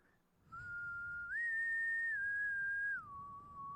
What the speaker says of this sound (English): The man heard a whistle in the distance.